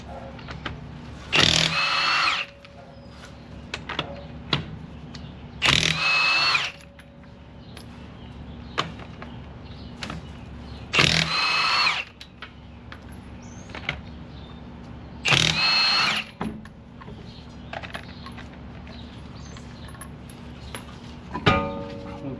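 Impact gun with a 22mm socket works lug nuts off a Toyota Camry wheel in loud bursts of a second or two, five spaced runs of buzzing power tool separated by quiet gaps and faint clinks.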